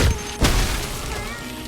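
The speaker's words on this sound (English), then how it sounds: "If I throw a chiller nade," In Fortnite, a chiller grenade is thrown at zombies and lands with a single short, muffled thump, followed by a low, fading game ambience.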